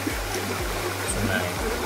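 A river stream flows steadily in a forest on Mount Long Kelu in North Kalimantan, a continuous close wash of water with a low hum running beneath it.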